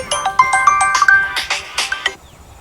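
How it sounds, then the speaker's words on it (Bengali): A short, bright electronic phone ringtone plays a quick chiming melody of rapid notes, close and clear, with no voices. "আমার ফোন বাজছে"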